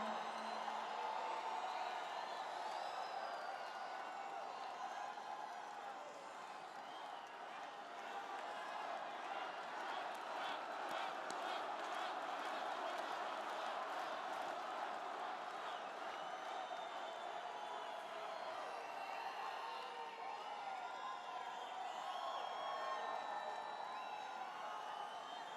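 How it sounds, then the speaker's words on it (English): A large crowd at a presidential rally in Arizona makes a sustained, fairly distant roar of cheering and applause that rises and falls slightly across the whole stretch. "What a crowd."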